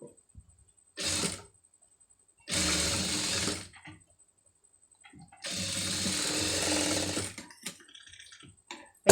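Domestic sewing machine stitching a sleeve, with two sustained whirring runs of rapid stitching, one short and one longer, separated by quiet pauses and light handling clicks, close and moderately loud.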